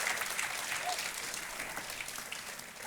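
Studio audience applause on a Hindi TV quiz show, Kaun Banega Crorepati season 9, after a contestant receives her cheque: steady, dense clapping that fills the whole stretch at a moderate level, with no talk over it.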